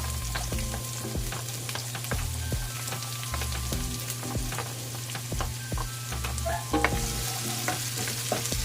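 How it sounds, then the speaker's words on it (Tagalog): Onion sautéing with ginger in a pan, a continuous close frying sizzle with frequent spatula scrapes and clinks against the metal throughout. "Lutuin muna natin maigi yung onion natin."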